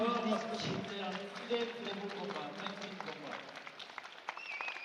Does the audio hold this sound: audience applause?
yes